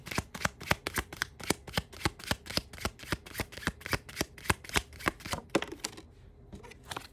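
Handmade playing cards cut from blank card stock are shuffled in a steady run of about two dozen crisp riffling snaps, close and clear, before a short quieter stretch at the end.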